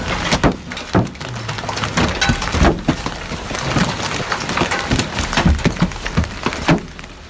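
A hailstorm in El Paso, Texas: hailstones pelting hard surfaces in a dense, irregular clatter, with louder sharp impacts scattered through a steady noisy downpour.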